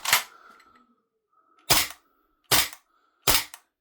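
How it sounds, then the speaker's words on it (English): A VFC FNC gas blowback airsoft rifle cycling dry with the magazine's dry fire switch off, four sharp snappy metallic clacks, the last three close together, each with a brief gas hiss, no voices. "if we take the dry fire switch off the magazine, we can give you a quick look at this cycle"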